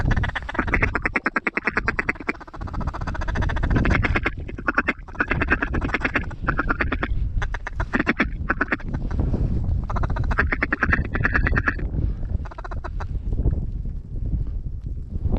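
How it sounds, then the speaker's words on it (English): Mallard ducks quack repeatedly and loudly on a windy day in Manitoba, with steady wind noise underneath and dense overlapping calls throughout. "Those are mallards."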